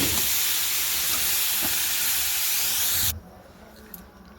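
Tomatoes and mustard seeds hit hot oil, giving a loud, dense, steady sizzle that runs for about three seconds and then cuts off abruptly into faint background noise.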